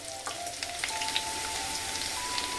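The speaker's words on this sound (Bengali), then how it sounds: "দু মিনিটের মতো আমি আলুটা ভেজে নেব।" Potato pieces fry in hot oil for a Bengali long bean and lentil dish, a steady crackling sizzle with small pops and a faint tonal hum underneath, close and unbroken.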